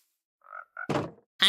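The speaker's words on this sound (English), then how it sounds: "we got frogs here because we got frogs everywhere" Frogs croaking in a single-player block-building game village: two short, faint croaks followed by a louder, fuller thunky croak, then another sharp burst starting at the end, with no talking.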